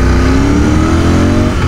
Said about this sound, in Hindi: wow the firing is awesome on a motorcycle man